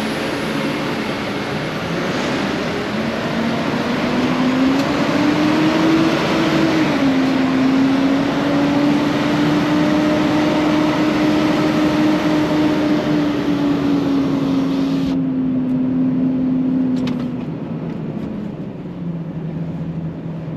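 A car engine drones loudly and steadily while driving, held in one gear as its pitch climbs slightly and holds, then eases off as the road noise drops near the end.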